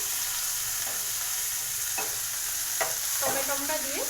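Tomatoes and onion fry together in a pan, a steady sizzle broken by a few scraping stirs and light clinks near the end, with no one speaking.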